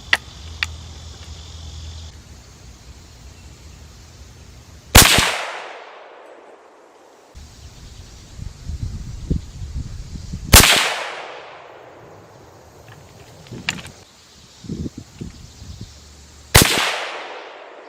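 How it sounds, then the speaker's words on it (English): CVA Scout rifle chambered in .35 Whelen fired three times at a range, each shot a sharp, loud crack followed by a long decaying outdoor echo, spaced about six seconds apart, with faint insect chirps and handling noises between. "we're gonna go ahead and go to a clean plate and do a 3-shot group"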